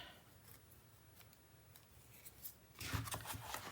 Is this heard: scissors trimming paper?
yes